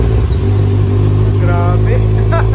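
A Honda CB650R fitted with an ARG Racing exhaust pipe revs loudly up close, a deep continuous engine roar that swells in short bursts of throttle, with people talking over it.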